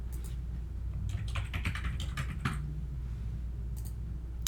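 A note for a grocery list item is typed on a computer keyboard. Quick irregular clicks come in clusters over a steady background hum, fairly close and clear.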